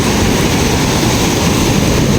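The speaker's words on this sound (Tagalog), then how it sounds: "Lakas pa rin ang alon dito talaga." Strong ocean waves surge against rocks at Sentinela Beach Resort in Claveria, Cagayan Valley, a loud, continuous roaring wash of surf with no voices.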